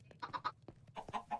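Chickens clucking in the video game Minecraft, several short clucks in quick bursts sounding close, with a faint low hum beneath.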